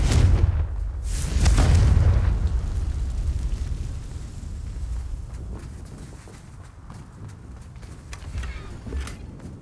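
A Confringo fire spell from the Hogwarts Legacy video game erupts in a loud, booming blast with a heavy low rumble, then settles into a fading roar with a few softer thuds.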